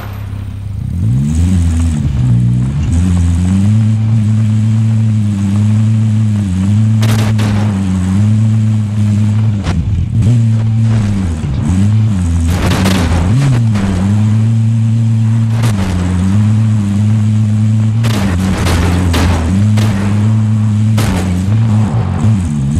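A car engine in the Warzone video game drones steadily and revs up and down while driving, with loud clattering impacts and bangs breaking in now and then.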